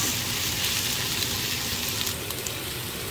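Peppers and other vegetables sautéing in a pan for a Philly cheese steak pizza, giving a steady, even sizzle throughout with no talking.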